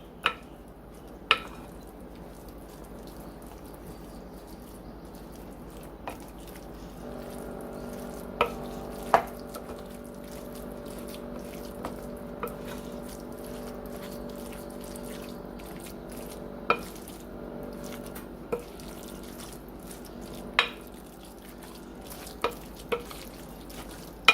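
Chunky salsa is stirred into taco pie filling in a pan, a quiet low simmer broken by sharp spoon clicks and taps against the pan at irregular intervals, with a faint steady hum partway through and no talking.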